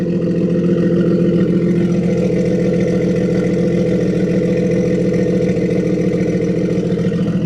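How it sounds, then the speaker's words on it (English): A car engine rumbles loudly through an AWE exhaust, a deep, close, pulsing drone with a steady throb and slight rises in pitch, with no other sounds over it. "AWE exhaust sounds crazy"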